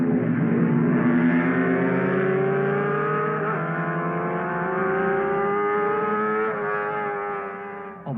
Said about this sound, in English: Hailwood on his Honda 4 and Hocking on the lone MV Twin were battling wheel to wheel for 2nd place